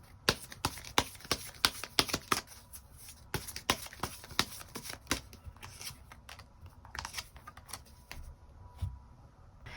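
Tarot cards being shuffled and drawn, with close, crisp flicks and rapid riffling slaps in quick irregular bursts that thin out toward the end.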